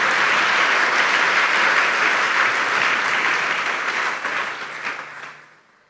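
A church congregation at a sermon breaks into sustained, dense applause with many hands clapping together, holding steady before fading out toward the end.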